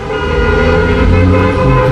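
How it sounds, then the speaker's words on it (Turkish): Loud, continuous car horns blare together in a sustained, overlapping drone from a wedding convoy in Berlin, with a busy traffic din underneath. "Kornaya basarak gezmek ne oluyor?"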